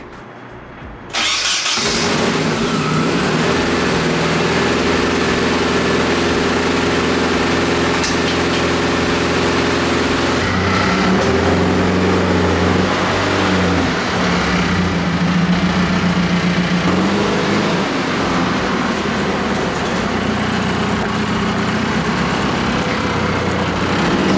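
A Nissan 240SX engine, recently damaged by a fire, starts and keeps running at a steady, loud idle throughout with no voices, its tone wavering slightly in the middle.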